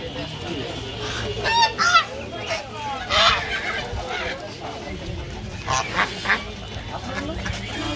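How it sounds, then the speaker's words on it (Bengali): Ducks and chickens offered for sale at a poultry market around Kanaipur and Faridpur give repeated honking, quacking calls in short bursts over a steady noisy background, with some voices nearby. "হাঁস এবং মুরগি নিতে পারবেন"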